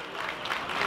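A short, steady wash of audience applause at the Festival Revueltas in Durango, dense clapping heard from a moderate distance for under a second.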